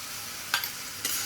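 Onion and green chili paste hitting hot oil, a steady hiss with two brief scraping bursts from a utensil, close and fairly quiet, no talk.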